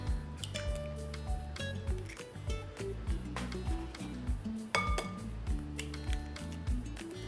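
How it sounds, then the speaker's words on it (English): Whisking eggs and vanilla into blondie batter in a bowl: rapid rhythmic clinks and scrapes of a whisk, close and steady for several seconds without talk. "we're gonna start whisking this together"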